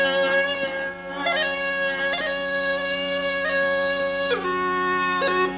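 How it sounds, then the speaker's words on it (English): Bagpipe drones warming up as the bellows fill the bag: a steady, loud, buzzing reedy drone holds throughout, with chanter notes wavering and sliding in pitch on top, and no voices. "That's the drones getting warmed up."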